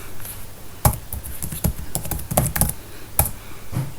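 Quick bursts of keystrokes on a computer keyboard, irregular clicks and taps over about four seconds, close and moderately loud, with a few sharper strikes standing out.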